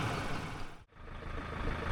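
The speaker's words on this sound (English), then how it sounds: "Engine on, ready to go." A vehicle engine idles with a steady low rumble on an outback property, briefly cut out for a moment before resuming.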